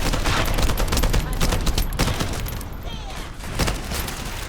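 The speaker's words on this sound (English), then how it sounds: "Shooting at me." Dense enemy gunfire in the video game The First Descendant, loud overlapping rapid shots throughout that ease slightly toward the end.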